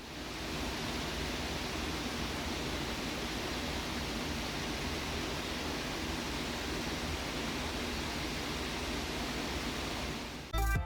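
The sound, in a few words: 6 GPU crypto mining rig running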